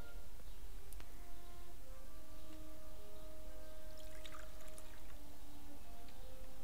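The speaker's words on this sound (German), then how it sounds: "gieße Wasser in die Schale" Water is poured into a bowl in the video game Book of Unwritten Tales 2, a soft continuous pouring and trickling over quiet background music, with a brief splashy patch toward the end.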